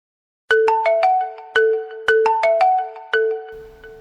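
A melodic phone ringtone plays alone, a repeating pattern of bright chiming notes, loud and close, cycling about three times.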